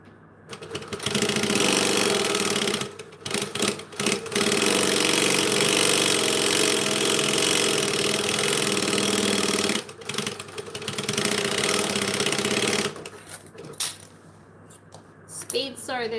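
A sewing machine stitching a bag runs in long loud bursts that stop and restart, close by, with a few short pauses where the fabric is moved and some speech around it.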